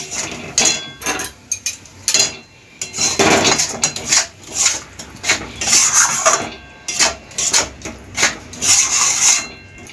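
Metal clinks and clatters from a lid being set on a pan of mushroom masala, a series of sharp knocks and rattles in irregular bursts, close and fairly loud.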